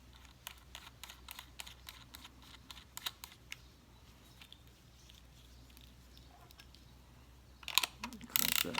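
Quick ratchet clicks come in bursts as a 5/16 inch nut over a lock washer is tightened to clamp the end cap of a homemade lawn striper, fairly faint, followed by louder clattering handling noise.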